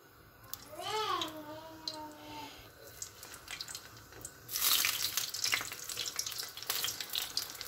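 Kulgunchak dough sizzles in hot oil in a pot as a Uyghur fritter fries, a soft hiss rising after a brief whistle-like tone and growing into a busy, crackling sizzle.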